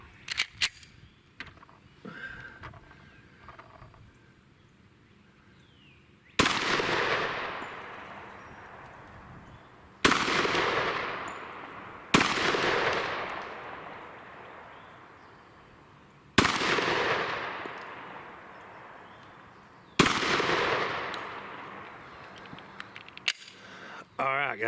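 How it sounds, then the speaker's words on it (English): Five loud, sharp 10mm pistol shots from a Glock 29 crack outdoors at irregular intervals a few seconds apart, each followed by a long rolling echo that slowly fades, with quieter handling noises before the first shot. "let's put 5 of these through the Glock 29"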